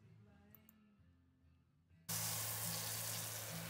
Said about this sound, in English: using the gray multi-purpose adapter and the foamer.